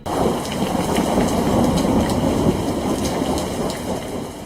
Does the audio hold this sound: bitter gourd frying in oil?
no